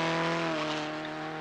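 Maurice Bishop's towing car climbs the Oddicombe hill climb in 1969 with a steady, loud, close engine drone that holds an even pitch throughout, with no talk.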